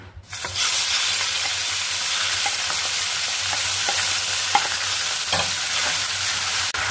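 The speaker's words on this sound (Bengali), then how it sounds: "তেল গরম হয়ে গেছে, এবার আমি চিংড়ি মাছগুলো দিয়ে দেবো।" Prawns sizzle in a little hot mustard oil in a wok, a loud, steady, hissing fry that starts abruptly and runs on with scattered spatters and faint stirring ticks, with no talking.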